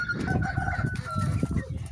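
Chickens in a farmyard flock with newly acquired roosters crow and cluck in quick, uneven bursts, close and fairly loud, with no talking.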